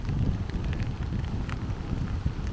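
Wind blows at a rainy beach beside a rough ocean, a continuous low rumbling rush with faint crackling on top, close and steady with no voices.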